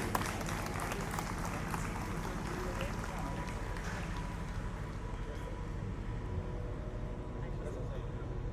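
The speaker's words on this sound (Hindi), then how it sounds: "तालियों से स्वागत करें।" An audience at an International Yoga Day gathering in Chandigarh applauds to welcome a guest, dense continuous clapping with a loud voice speaking over it throughout.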